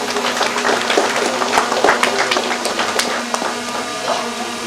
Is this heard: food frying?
no